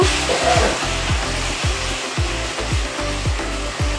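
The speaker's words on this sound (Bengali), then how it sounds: "পোস্ত বাটা দিয়েও ভালো করে কষিয়ে নেব।" Spices with poppy seed paste sauté in a pan for an aloo potol dish, a loud continuous sizzle overlaid with a rhythmic, repeated scraping of a spatula stirring back and forth.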